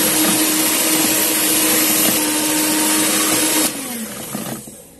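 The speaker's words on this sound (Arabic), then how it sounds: "هنضرب البيض" Electric mixer whirring steadily as it beats eggs for an orange cake, a loud close-up motor drone that holds even before switching off near the end and winding down into quiet.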